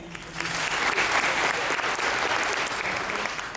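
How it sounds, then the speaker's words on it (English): A crowd at a gospel quartet concert claps together in a dense, continuous burst of applause that holds steady for several seconds. "Clap your hands."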